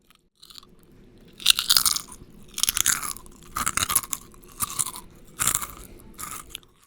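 Beef-flavored potato chips crunch in close bites, six loud bursts of crisp chewing spaced about a second apart over near silence, with no talking.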